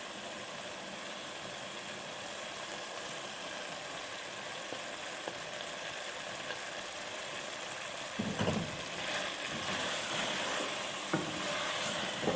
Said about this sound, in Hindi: 2-3 मिनट हो गए हैं इसे भूनते हुए।